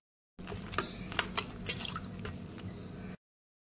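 Hot oil drips and sizzles softly off fried dahi bora lentil fritters as they are lifted from the pan, with a few light taps and wet squishy sounds, close and fairly quiet.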